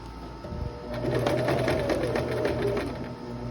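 A sewing machine stitches a dress over a pocket, starting after a brief pause and then running in a steady mechanical whir for a few seconds close up.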